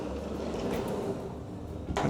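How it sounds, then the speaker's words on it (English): A small pocket door in a mid-century modern house slides along its track once, with a short rolling rub and a brief bump near the end. "it has a little pocket door"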